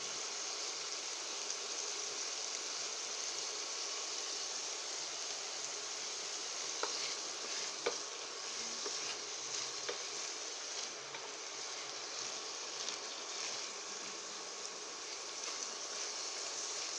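Asparagus frying in a pan gives a quiet, steady sizzle with faint crackles and a few soft ticks and clicks, heard alone without talk.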